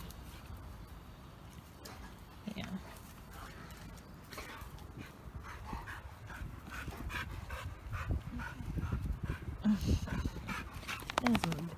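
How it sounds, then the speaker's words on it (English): A big dog pants rapidly and close up in a backyard during play, with people talking over it and some rustling and movement around. "You're just panting all in my face, man."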